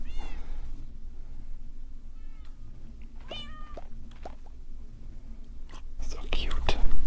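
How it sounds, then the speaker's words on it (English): Minecraft cat meowing in a video game, several short high meows spread through the clip with an ocelot nearby, faint and mid-distance over a low background hum, with some whispery noise near the end. "Hello, ocelot. And kitty in the background."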